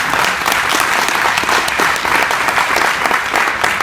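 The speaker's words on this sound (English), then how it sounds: "please give a warm hand of applause to him" Audience applause at an academic scientific session, a steady dense wash of many hands clapping close and loud for the whole stretch, with no voices over it.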